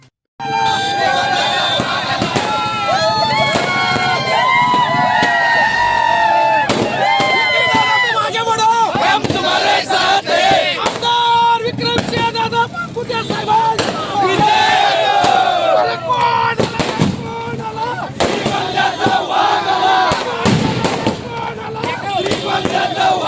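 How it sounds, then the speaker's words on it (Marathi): A large crowd of political party workers shouts and chants excitedly throughout at an election victory celebration, with sharp bursts of firecrackers popping amid the cheering. "हा जो जल्लोष आहे हा कार्यकर्त्यांचा उत्साह आहे"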